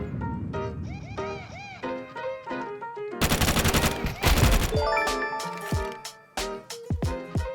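FAMAS rifle firing in Counter-Strike 2, a dense rapid burst of shots in the middle flanked by shorter bursts, single cracks and sharp metallic pings, fairly loud against a quiet game backdrop.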